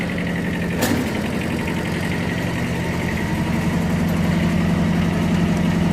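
Kubota KJ11 Japanese mini tractor engine running steadily in second gear, a close, even diesel drone with a single sharp knock near the start.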